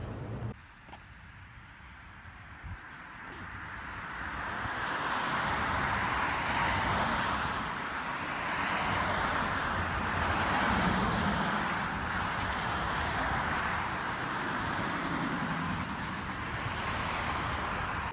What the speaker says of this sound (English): the pitch of the sound coming from the car changes right when it passes you